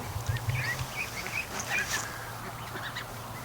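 Ducks and young ducklings quack and call near a lake, several overlapping honking calls at close range over a low continuous background rumble.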